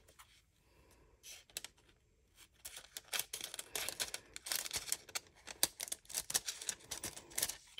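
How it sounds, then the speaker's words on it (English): A metallic foil sheet is cut in half with scissors, giving irregular crisp snips and crinkling rustles that start sparse and quiet, then grow denser and louder as the cut proceeds. "So I'm going to go ahead and I'm going to cut this in half."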